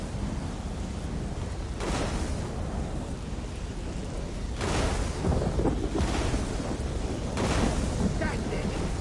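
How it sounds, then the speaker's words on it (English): Thunder and lightning in an Elder Scrolls Online trial: a constant roaring rumble of storm and wind, swelling into heavier booming cracks at intervals, loud and close throughout. "Have some lightning!"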